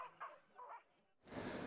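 Sled dogs at a European sled dog race give a few short yips and barks, then a burst of louder, noisier commotion takes over in the last half-second.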